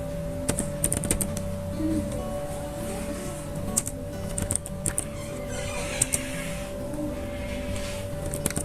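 Steady clicking of keys being typed on a computer keyboard, with bursts of quick strokes and brief pauses against a constant electrical hum.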